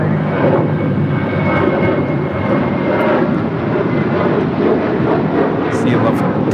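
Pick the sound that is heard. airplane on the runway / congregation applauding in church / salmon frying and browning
airplane on the runway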